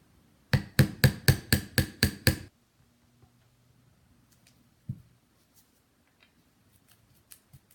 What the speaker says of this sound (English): I'm going to take my spikes and I'm going to hammer them in each hole so it's nice and set in